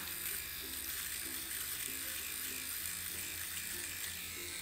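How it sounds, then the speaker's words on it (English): A steady buzz from a pocket-sized electric face shaver runs throughout, close and fairly constant, with a faint rhythmic ripple as it moves over facial skin. "when it is shaving hair, you can definitely hear it"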